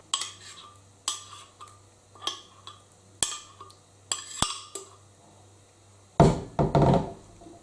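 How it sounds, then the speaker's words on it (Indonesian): Grated cassava for pichi pichi is pressed in a strainer with a metal spoon, giving a series of sharp clinks and knocks about once a second, then a busier cluster of scraping taps near the end. "jadi kita cukup remas-remas pakai sendok aja ya teman-teman, biar kadar airnya tidak terlalu banyak"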